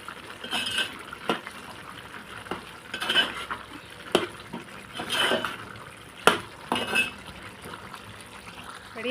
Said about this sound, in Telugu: రెడీ అయిపోయిందండి కర్రీ. ఒకసారి కలుపుకుందాం.